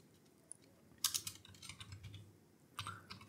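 Bursts of typing on a computer keyboard while entering signup text for a WordPress email form, quick clustered keystrokes close by in two main runs separated by a short pause, over a quiet room hum.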